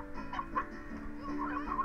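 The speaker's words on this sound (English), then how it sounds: "So many chickens!" Chickens cluck in the Slime Rancher video game, a few soft, scattered clucks and warbles close by, with no talk.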